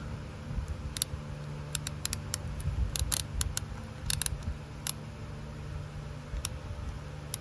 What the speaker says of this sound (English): So let's torque these down.